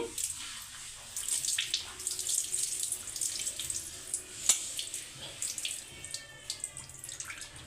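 Tap water runs steadily into a sink while liver is rinsed for a fry, a close, continuous splashing stream with small clinks, and no talking.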